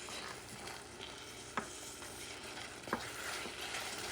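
Grits mixed with mozzarella cheese being stirred in a pot, a soft continuous scraping and bubbling texture with a couple of faint utensil knocks, no talk.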